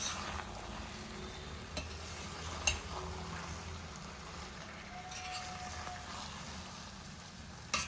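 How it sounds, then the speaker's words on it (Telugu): Tomato paneer curry gets stirred in a pan with a quiet, steady sizzle and a few scattered utensil knocks against the metal. "వేసేసి మంచిగా కలుపుకుందాం"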